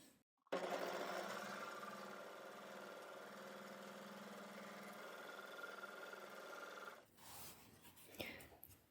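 An overlocker runs continuously for about six seconds sewing two layers of fabric together, a close, even motor whir with rapid stitching buzz, then stops, followed by soft handling noises.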